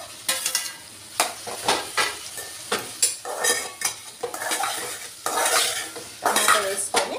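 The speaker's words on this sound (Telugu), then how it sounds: "ఇప్పుడు టమాటాలు వేసుకోవాలి." Tomatoes going into a pan of cooked bitter gourd curry, with repeated scraping and clinking of a spoon against the pan over a gentle background sizzle, close and moderately loud.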